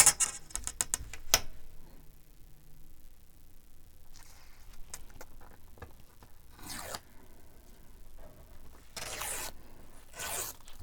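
A sheet of printed regular paper torn by hand for a collage page, heard as several short, close ripping and rustling bursts with quieter handling noises in between.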